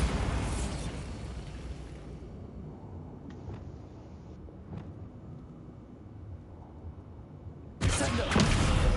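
A Bombarda spell explosion in Hogwarts Legacy bursts loudly at the start, then fades into a quieter rumble with small pops before a second loud burst near the end.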